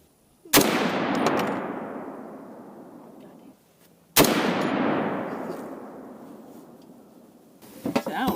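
Two loud, booming rifle shots from a Noreen BN36 in .300 Win Mag, each a sharp crack followed by a long, fading rumble and echo, spaced a few seconds apart, outdoors.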